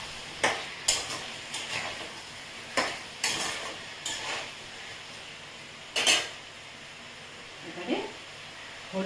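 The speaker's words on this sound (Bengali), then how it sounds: "একটু নাড়িয়ে নিলাম।" A spoon stirs 1.5 spoons of garlic and 1 spoon of ginger in a cooking pot for a vegetable chicken curry, giving about eight irregular scraping strokes over a low, faint sizzle.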